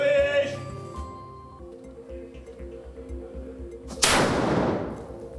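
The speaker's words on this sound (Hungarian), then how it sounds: "Figyelem, lövés!" A single loud gunshot booms at a castle weapons demonstration, a sharp blast with a decaying tail following a quiet stretch of outdoor background sound.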